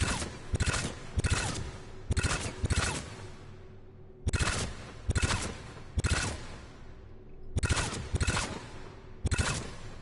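Rapid bursts of weapon fire with heavy recoil in the video game Mass Effect 3, loud and close, coming in repeated clusters of sharp shots separated by short gaps.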